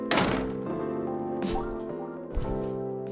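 A door opens with a soft thunk and chime as a new customer walks into the café in the video game Coffee Talk, set over a steady layer of mellow background music.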